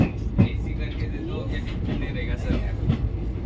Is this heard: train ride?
yes